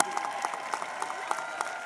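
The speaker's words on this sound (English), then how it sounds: "Give our graduates a round of applause." Audience applause for high school graduates at a commencement ceremony, a steady patter of clapping heard fairly softly and at a distance for about two seconds.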